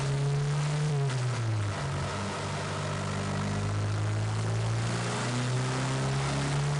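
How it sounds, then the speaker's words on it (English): A car engine on a dyno roller, fitted with an electronic boost controller, drones steadily as its turbo spools up, the pitch sliding and rising in a loud continuous whine with no voices. "In this run, the turbo spools up faster"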